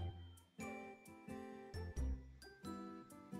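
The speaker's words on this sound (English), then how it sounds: "I hear the phone ringing." A payphone rings somewhere out back on a Garry's Mod map: a bright, tinkling electronic ring repeats in quick, regular bursts, fairly loud and with no talk over it.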